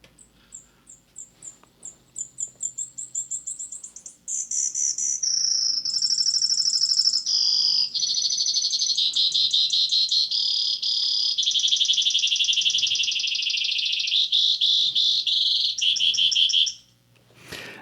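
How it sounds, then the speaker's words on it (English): A Brewer's sparrow sings one long, continuous song made of high, rapid trills and buzzy chirps, shifting from phrase to phrase for well over ten seconds before stopping. The song is clear and close, with no voices. "I'd play a recording of Brewer Sparrow, the sparrow that swallowed a canary"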